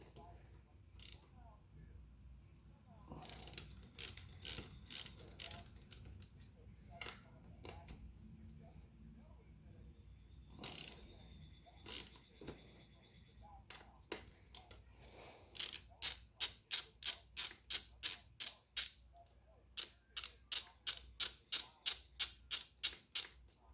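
A ratchet loosens a nut on a Kawasaki ZX10R motorcycle fork, making quiet irregular clicks at first and then a fast, even series of close ratcheting clicks, with someone talking at times.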